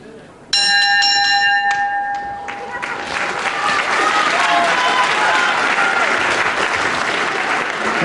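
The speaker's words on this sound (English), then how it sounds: "Right on the bell, round 1." A wrestling ring bell rings several quick clangs to start round one of a British title bout, then a crowd bursts into loud sustained applause and cheering.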